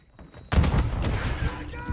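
Sudden loud burst of RPK machine gun fire in a video game, a dense rattle of shots after a quiet start, with voices talking underneath.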